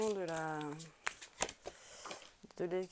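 A pile of tarot cards is shuffled in a short burst of papery riffles and taps, sandwiched between a woman's speech at the start and end.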